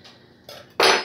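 Cooked zoodles are strained from a pot: a couple of light metallic clinks, then a sudden loud rush of water pouring out that fades away.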